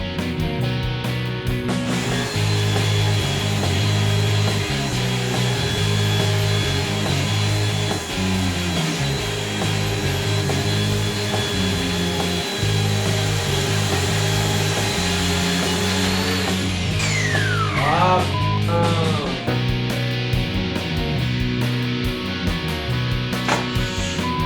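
A belt sander runs loudly and steadily with a droning, shifting whine, then gives a sharp scraping squeal near the end as the sander jumps, before settling back.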